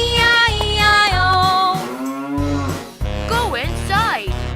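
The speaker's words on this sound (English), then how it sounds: "With a moo-moo here and a moo-moo there, here a moo, there a moo, everywhere a moo-moo." Cartoonish cow moos ring out in a children's farm nursery rhyme, long tonal lowing calls repeated several times over a steady musical backing.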